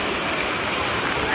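Rain falling at a hill station railway stop, a dense, even hiss of drops striking surfaces, close and steady throughout the brief moment.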